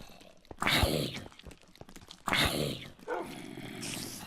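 Tamed Minecraft wolves bark in a video game, two sharp bursts close by with quieter growling sounds between them, and nobody speaks.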